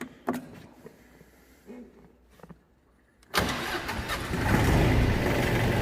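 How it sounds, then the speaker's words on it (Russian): A Mitsubishi MT181 Japanese mini tractor's engine cranks and catches after a few quiet clicks and knocks, then settles into a loud, steady close-up running rumble. "Трактор запускается идеально."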